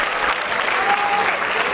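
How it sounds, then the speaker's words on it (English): Keynote session audience at DAVV Indore giving a round of applause, dense steady clapping heard throughout the short stretch, with a faint voice mixed in. "let's have a big round of applause for him"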